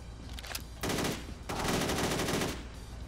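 Rapid automatic gunfire in the video game Driv3r, dense loud bursts of shots in two waves with a short gap between, no talking over it.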